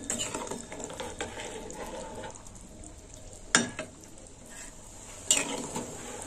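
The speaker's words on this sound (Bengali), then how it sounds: "বড়িগুলো ঝোলে ফুটবে।" Fried lentil dumplings simmer in a prawn curry gravy with a soft bubbling sizzle, broken by two sharp clinks of a utensil against the pot, close and fairly quiet.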